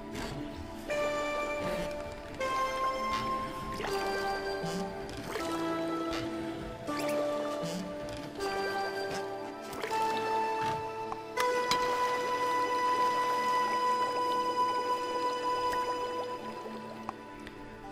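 Watery plinks and drips from the game Samorost 3 sound as a sequence of pitched, bell-like droplet tones, steady and clear, building into a fuller sustained chime near the end.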